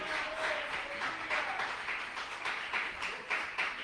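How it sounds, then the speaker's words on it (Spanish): A Pentecostal congregation claps during a church service, a moderate wash of many hands with rhythmic pulses rising and falling, fairly quiet and a little distant, with no voices over it. "Alguien dele aplausos al Rey de Gloria."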